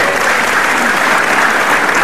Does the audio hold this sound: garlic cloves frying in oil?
no